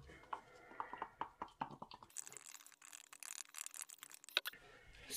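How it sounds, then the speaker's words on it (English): Acrylic paint being stirred quickly in a cup: a few seconds of fast, steady scraping and swishing that follows a stretch of talk and ends abruptly. "And I'm gonna stir really quickly"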